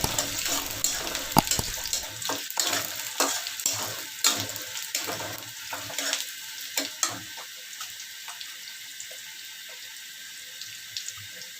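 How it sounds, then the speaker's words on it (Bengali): Chopped garlic frying lightly in a pan for a banana blossom dish, a steady hiss with scattered crackles and scraping, louder at first and settling into a quieter sizzle. "রসুন কুচি, এবার এটা ভেজে নিচ্ছি, হালকা করে ভেজে নেই।"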